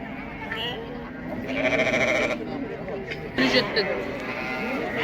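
Sheep bleat at a livestock market, two clear, loud, wavering cries rising over a background of crowd chatter and people talking nearby.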